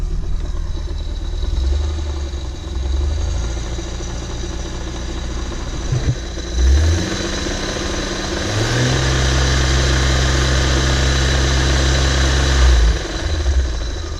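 A manually converted Nissan R31 idles close by with a steady low rumble, the revs rising and falling a few times with brief surges before settling back to a sustained idle.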